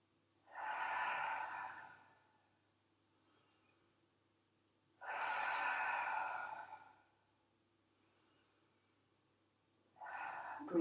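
Slow, deep yoga breaths: two long, breathy exhalations several seconds apart, close and clear in a quiet room, with a third breath beginning at the end.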